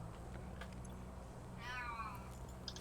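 A cat gives a single clear meow, fairly close but soft, with a quiet game or room hum underneath.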